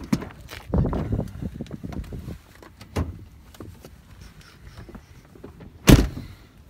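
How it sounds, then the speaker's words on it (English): The hood of a high-mileage work truck being released and opened: a few light clicks and rattles, then a loud metallic clunk near the end, close by. "Now I'll pop the hood here for y'all so y'all can see what is done underneath it."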